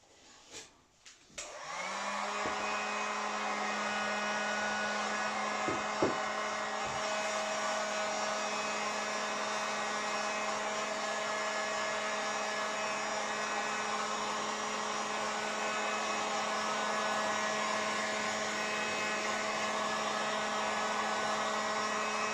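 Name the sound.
heat applied to shrink covering on a large model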